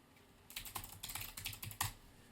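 Rapid clacking of computer keyboard keys, a close, dry burst of keystrokes in an irregular rhythm, with no one speaking.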